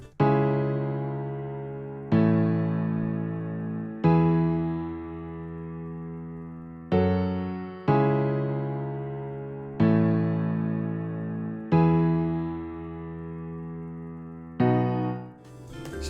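Chord progression built in Logic Pro X with added lower octave notes including the root and fifth, sustained synth-piano chords struck one after another about every two seconds, each decaying before the next, loud and alone.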